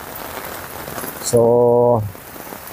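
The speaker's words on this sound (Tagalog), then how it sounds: "habang malakas ang ulan" Heavy rain falls in a steady broadband hiss while someone speaks, and a loud sustained tone cuts in for about half a second in the middle before the rain continues alone.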